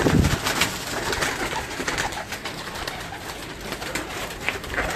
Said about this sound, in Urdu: بہت اچھے کبوتر بنائے ہیں.